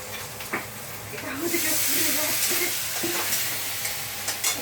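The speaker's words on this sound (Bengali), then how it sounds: "এই ঢালা গুড়টাকে কড়াইয়ে একটু জল দিয়ে গলতে দিলাম" A soft, steady sizzle and hiss of liquid jaggery melting with a little water in a wok, with faint scraping and a few light clinks.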